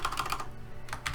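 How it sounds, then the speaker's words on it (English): Typing on a computer keyboard while setting up a WordPress student blog, a quick run of close, light key clicks that pauses briefly and then resumes. "all you have to do is you can start typing"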